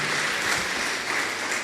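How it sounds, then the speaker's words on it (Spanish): Congregation applauding during a church service, a dense continuous patter of many hands that stays even and fills the room, with no voices above it. "Denle un fuerte aplauso a la palabra de Dios."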